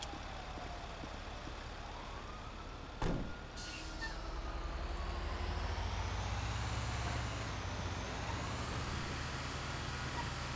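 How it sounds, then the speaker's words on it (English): A garbage truck rumbles through a residential neighborhood in a game, a steady low engine drone filling the scene, with a brief sharp burst near the start and rising tonal whine as it moves. "we got the garbage truck"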